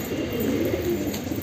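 A black wild pigeon coos low and steadily at close range, a soft continuous murmur with no voices over it.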